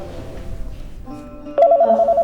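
A telephone rings indoors with a warbling electronic trill that starts abruptly partway through and repeats in quick pulses, loud and close, following a quieter stretch of room tone.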